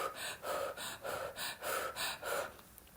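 Repeated mouth inhalations during a guided breathing exercise, about seven rhythmic, airy gasps spaced roughly every half second, close and fairly clear, with no talking.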